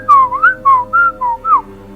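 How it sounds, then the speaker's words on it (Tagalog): A person whistles a short playful tune, six or so bright sliding notes in quick succession, close and clear over a faint low background hum. "Pasipol-sipol."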